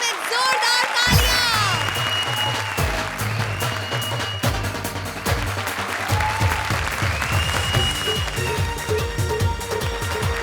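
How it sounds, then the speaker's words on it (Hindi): Studio audience applause on a television comedy show, loud sustained clapping and crowd noise with music playing underneath throughout. "लेडीज एंड जेंटलमैन जोरदार तालियां।"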